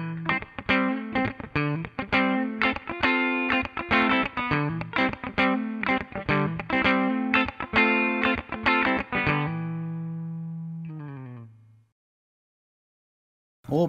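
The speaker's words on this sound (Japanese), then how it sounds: "ツイードデラックス、フェンダーのツイードアンプのサウンド。" Clean electric guitar through a modelled Fender Tweed Deluxe amp on a NUX Mighty Plug: a rhythmic, lively run of strummed chords, close and full, closing on a sustained chord that decays into silence before a brief final hit.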